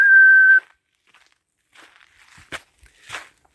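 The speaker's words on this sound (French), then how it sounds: "Je le siffle s'il va trop loin." A single loud, steady whistle lasting about half a second calls back a dog outdoors, then faint footsteps crunch on the ground.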